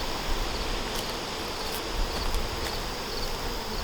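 Honey bees hum in a steady, dense buzz while a new hive is opened for inspection, a constant close swarm drone with a few louder passes of single bees and no talk.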